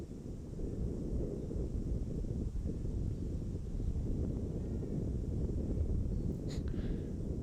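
Strong wind gusting across an outdoor disc golf course during a pro tournament round, a steady loud roar buffeting the microphone with low rumble throughout and no pauses.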